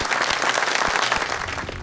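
A room full of people bursts into steady, dense applause that holds at an even level for about two seconds.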